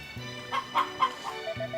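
Chickens clucking on a farm in the Harvest Moon video game, a few short close clucks in a quick series over a steady synthesized game-music background, no voices.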